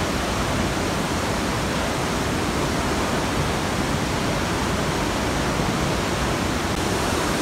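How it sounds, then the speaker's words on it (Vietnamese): A 72 m waterfall in a green forest gorge in Vietnam roars with a loud, unbroken rush of falling water, a constant broadband wash with no other sounds. "Thác này có thể chạy tới cầu Đắk Tít."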